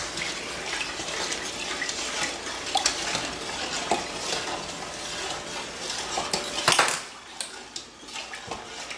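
Homemade ice cream mixture stirred in a pot on the stove, with steady close scraping and clinking of a utensil against the pot over a faint sizzle, one louder clatter near the end.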